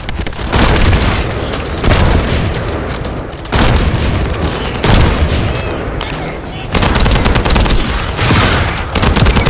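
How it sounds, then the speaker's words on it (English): Loud, dense bursts of rapid gunfire and booms in the video game The First Descendant roll on in waves, nearly nonstop, with voices faintly buried in the barrage. "That stopped the gunfire."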